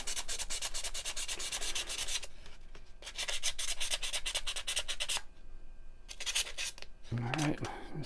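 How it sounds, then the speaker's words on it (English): Sandpaper rubbed by hand over titanium knife scales being prepared for anodizing. Rapid, rhythmic scratchy strokes come in bursts separated by short pauses, close and clear, with a brief stretch of talking near the end. "just pick the sandpaper up and sand off the green."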